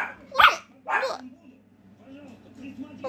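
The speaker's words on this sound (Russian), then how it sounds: "Кто это там так лает?" A pet dog at home gives a couple of sharp, close barks with softer whimpery sounds between them, alongside a person talking to it.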